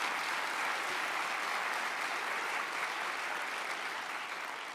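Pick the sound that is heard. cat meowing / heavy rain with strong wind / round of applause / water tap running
round of applause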